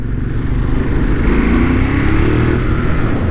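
A BMW S1000RR motorcycle engine running nearby, a loud, steady low drone with a slight rising pitch, heard alone without talk.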